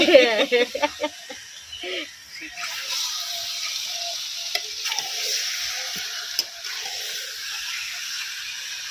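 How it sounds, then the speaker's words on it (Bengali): Chicken pieces sizzle gently in a pan while being cooked down for a home-style Bengali chicken curry, with a few stirring scrapes early on and a soft steady fry afterward, loud at first then quieter. "চিকেনটা হালকা কষানো হয়ে এসেছে"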